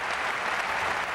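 Steady applause from an appreciative crowd after a gymnastics routine at the 2006 Swiss Cup mixed pairs competition, a dense, even patter of many hands that holds at a constant level throughout.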